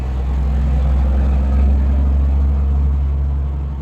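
A truck engine runs steadily at close range, a deep continuous rumble with a low droning hum that holds even throughout, with no talking.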